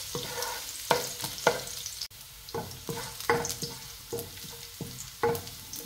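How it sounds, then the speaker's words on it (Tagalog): Garlic sautéing in a pan while being stirred, soft oil sizzle broken by repeated scraping strokes of the utensil against the pan in an uneven rhythm, close and clear. "Haluhuluin lang natin yung bawang para hindi naman masunog agad."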